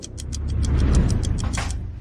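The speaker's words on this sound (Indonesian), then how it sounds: "Chloe, kita punya satu di rumah, printer, cetak yang baru." A printer running through a new document: steady mechanical whirring with rapid ratcheting clicks and gear noise, close and continuous, no voices.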